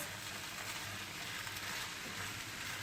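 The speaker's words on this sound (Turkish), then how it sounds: "Güzelce harmanlıyorum. 2 dakika kavuracağım iç harcımızı." Spiced filling sautéing in a hot pan, a soft continuous sizzle with faint stirring scrapes, steady and quiet, with no voices.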